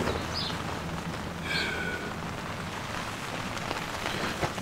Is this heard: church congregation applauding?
no